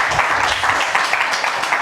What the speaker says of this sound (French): qu'on va applaudir très très fort